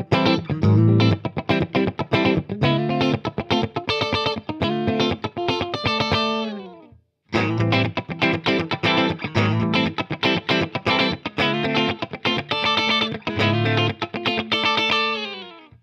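A 1990s Gibson SG electric guitar fitted with MLA pickups plays funk in the middle pickup position: crisp, rhythmic strummed chords and muted stabs with effects, a short gap halfway, then the groove resumes.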